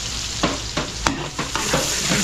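Garlic, onion and ginger sauté in a hot pan with a loud steady sizzle, broken by rhythmic scraping strokes of a spatula roughly every third of a second, close up and with no talking.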